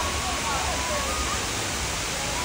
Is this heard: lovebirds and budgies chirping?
no